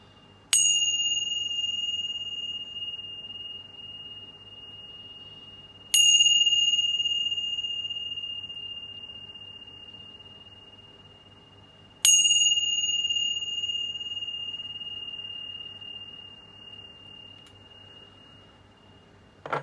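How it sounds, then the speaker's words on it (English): Three bright chime strikes, each ringing clearly and then slowly fading over several seconds before the next, evenly spaced and close, with no talk. "But first, let's chime."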